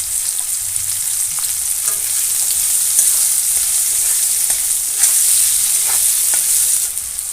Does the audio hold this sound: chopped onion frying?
yes